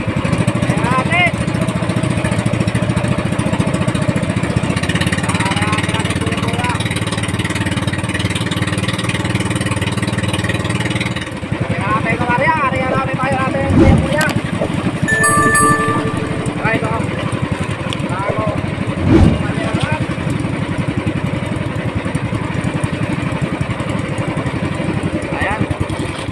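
A small fishing boat engine chugs steadily at sea while fishing for tanigue in strong amihan winds, a loud, continuous mid-pitched motor rattle with occasional knocks and voices talking over it.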